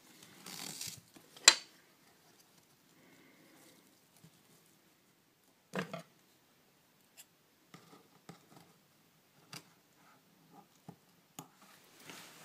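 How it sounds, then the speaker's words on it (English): Scissors snipping through elastic cut to length, a handful of faint, scattered crisp snips and rustles in a quiet room. "In the next step, we cut the elastic to the desired length."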